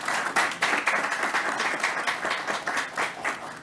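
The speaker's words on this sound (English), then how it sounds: "So let's give them a round of applause" A room of people claps at a New York news conference, a brisk, even round of applause that stays moderately loud and close, with no one speaking over it.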